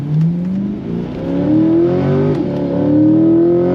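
A deep pushrod V8 engine of a C8 Corvette Z51 Stingray revs up in rising sweeps, dipping briefly and climbing again, loud and close with no talking.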